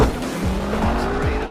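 Tires screech loudly as a car tears through a high-speed chase in the Black Panther film, its engine roaring close under a continuous squeal with no talking.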